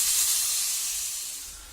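Chicken cooks in a steamer as a steady, soft hiss of steam runs continuously and fades slightly toward the end, with no voices.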